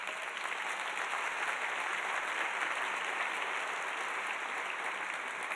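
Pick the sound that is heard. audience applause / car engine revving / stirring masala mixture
audience applause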